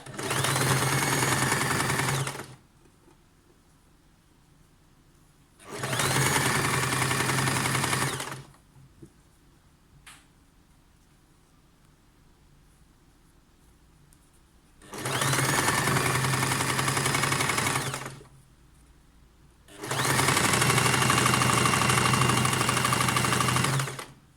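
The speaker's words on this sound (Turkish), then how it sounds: "arka kol evinin lastiğini bu şekilde dikiyoruz." An industrial sewing machine stitches elastic onto the back armhole of a sleeveless undershirt, running in four steady buzzing bursts of a few seconds each, separated by near-silent pauses with faint handling clicks.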